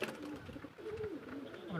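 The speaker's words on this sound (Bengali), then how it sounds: "আমার বন্ধুর পায়রাগুলো দেখাবো আপনাদের।" Pigeons kept at a friend's house coo softly in short wavering phrases over a busy background hum, with a few calls repeating through the brief stretch.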